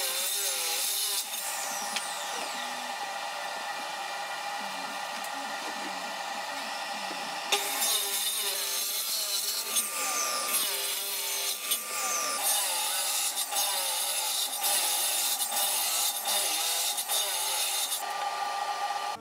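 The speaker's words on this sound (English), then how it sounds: "First job to do was to cut the timbers roughly to length with the miter saw." Wooden timbers salvaged from a house built around the 1940s or 50s being cut roughly to length on a miter saw in a workshop, with a steady high whine and rasping bursts of blade through wood, growing busier and louder after the first few seconds.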